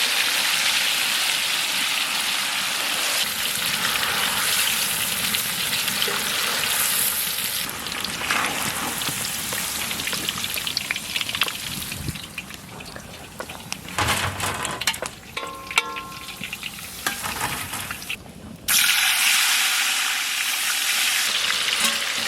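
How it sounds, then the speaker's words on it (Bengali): Paneer frying in sunflower oil during outdoor village cooking: a loud, continuous sizzle with scraping stirs breaking through midway and a brief pause near the end. "সানফ্লাওয়ার তেল, পনির ভেজে নেব"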